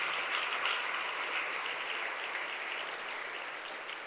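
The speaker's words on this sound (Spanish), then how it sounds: "Vamos a darle fuerte ese aplauso al Señor." A church congregation applauds the Lord in a steady, fairly soft wash of clapping that holds evenly and fades slightly toward the end, with no talking.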